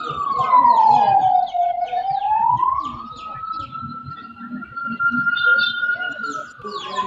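An ambulance siren wails loudly and close, one long sweeping tone that dips, rises and holds, with people talking underneath.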